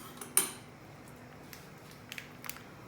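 A metal cooking pot being handled on a stovetop before oil is heated in it, with one sharp clank followed by a few light scattered taps and knocks against a quiet background.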